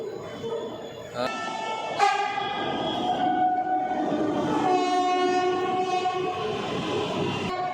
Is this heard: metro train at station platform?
yes